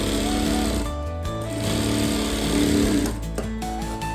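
A sewing machine stitches a plain blouse in a rapid, steady mechanical whir. It carries close and loud for the whole stretch, with slight changes in pace and no voices over it.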